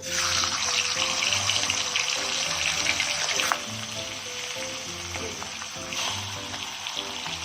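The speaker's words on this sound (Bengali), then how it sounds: "আমার কড়ার যে তেলটা আছে ওটা ভালোই গরম হয়ে গেছে। এবার আমি এর মধ্যে মাছের মাথাগুলো অ্যাড করে দেব।" Fish heads hitting hot oil in a wok give a loud, dense hiss that peaks early, then eases into steadier sizzling and crackle, close up with no talking.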